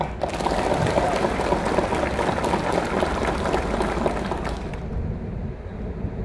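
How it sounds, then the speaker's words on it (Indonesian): Dense, steady applause from a crowd honoring soldiers of Raider Infantry Battalion 301/PKS, sustained for several seconds before cutting off sharply near the end. "Ya, tepuk tangan."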